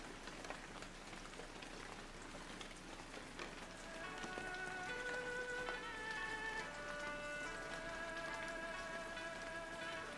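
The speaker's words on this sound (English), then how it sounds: "I love the rain." Rain falls steadily on surfaces in the Shenmue video game, a soft continuous patter with faint background music tones joining midway, no talking.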